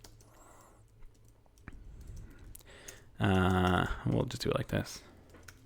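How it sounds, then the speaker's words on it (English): Someone types on a computer keyboard while coding, with a mic placed in front of the keys: soft, scattered clicks and taps that run under a man's speech. "I always mess up typing because I have the mic in front of me and it's kind of covering the keyboard"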